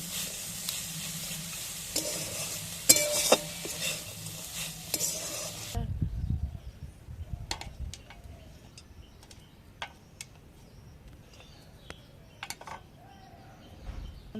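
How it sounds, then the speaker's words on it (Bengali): Greens and bitter gourd are stirred and mixed in a sizzling pan, with a soft frying hiss under scraping. Scattered sharp clicks follow as a utensil taps the pan, close and unaccompanied by speech. "এবার সব ভালো করে মিশিয়ে দেবো।"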